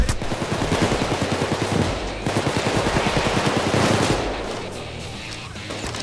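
Rapid, continuous automatic gunfire from a PayDay 2 heist rattles loudly for several seconds, dense bursts easing slightly toward the end.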